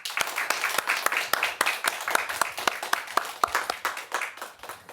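A church congregation claps in a sparse, rhythmic burst of individual handclaps, fairly close and distinct, holding steady for several seconds.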